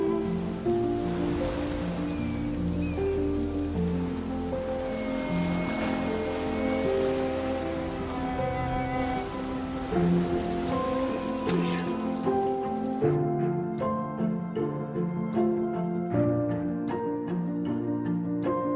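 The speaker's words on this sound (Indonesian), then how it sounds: "Hingga saat musim hujan datang," Steady rain falling in a village during the rainy season, a dense continuous patter with layered tonal music playing over it throughout, cutting to sparser, sharper drips near the end.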